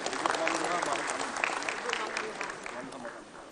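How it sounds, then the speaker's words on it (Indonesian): Applause for the governor of Jambi at the 25th anniversary event of the PAN party: a steady wash of clapping from a large crowd, loud at first and slowly fading over a few seconds. "Tepuk tangan dulu untuk Gubernur Jambi kita"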